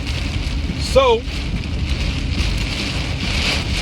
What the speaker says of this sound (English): Raining out here in Atlanta.